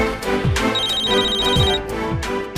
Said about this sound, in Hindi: तेरे घर से फोन है, उठा ना।